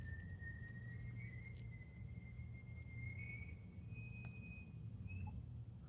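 Far-off car brakes squeal in a thin, drawn-out whine that wavers in pitch over several seconds, faint over a low outdoor rumble with a few soft clicks.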